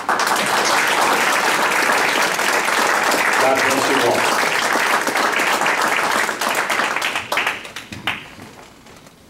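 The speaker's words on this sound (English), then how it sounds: "please rise for another round of applause" Sustained, loud audience applause honoring veterans at a commemorative gathering, dense clapping that tapers off over the last two seconds while a voice speaks briefly over it.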